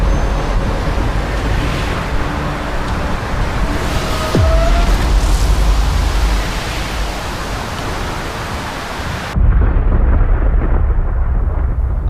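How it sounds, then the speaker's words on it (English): A thunderstorm along a coastline with heavy, steady rumbling roar and dense rain-like noise throughout, the intensity surging and dropping in waves, with a brief tonal sweep midway. "massive storm has formed along the northeastern coast, just on the other side of the Dinosaur mountain range"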